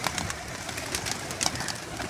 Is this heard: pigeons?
yes